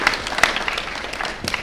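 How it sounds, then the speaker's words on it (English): Audience at a small-town graduation ceremony applauding, a short burst of crowded clapping with a few sharper individual claps standing out. "Give yourselves a big round of applause for supporting these cool kids."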